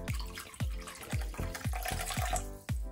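Water pouring from a container into a cooking pot over pork for Peruvian chicharrón, a steady splashing gush broken by rhythmic glugs roughly every half second, close and fairly loud with no talking.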